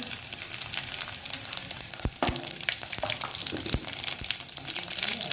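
Mustard seeds hit hot oil in a pan, crackling and popping in sharp, irregular bursts over a continuous sizzle, close and fairly loud with no talking.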